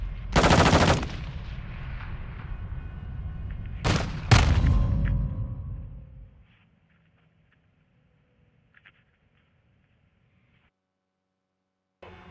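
Gunfire in the Call of Duty: Modern Warfare II prison-break mission: a loud burst of automatic fire, then two sharp shots with a rumbling tail that fades to near silence.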